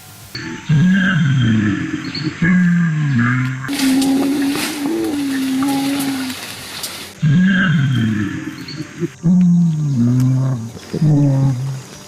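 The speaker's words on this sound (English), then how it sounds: "gorillas have also been recorded singing while they eat" Gorillas make deep, wavering hums and low vocalizations while eating, rising and falling in short phrases, with a stretch of broadband rustling noise in the middle.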